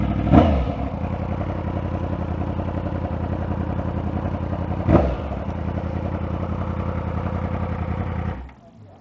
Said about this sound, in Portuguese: Tá aí as motocas.